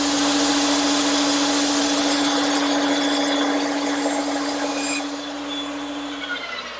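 Bandsaw making 90-degree cuts through wooden slats for an Adirondack chair, a loud steady whining hum with the blade tone holding throughout, fading slightly toward the end, no talking.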